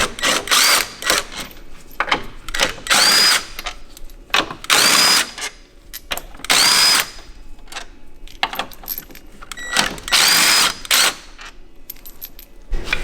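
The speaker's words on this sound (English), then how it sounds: "Now we can remove the bolts from the top of the strut. These are all 16mm bolts again." Power tool whirring in repeated bursts as 16mm bolts are removed from the strut top on a BMW F30/F80/F82, with about five loud runs separated by pauses and small metallic clinks of bolts and sockets.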